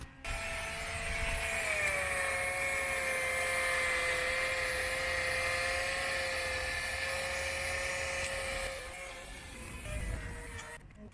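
Power sander working a headlight lens on an Evo 9 MR with a 3M P800 pad, a steady high whining buzz with sustained tones that holds for about nine seconds, then drops away and briefly returns near the end.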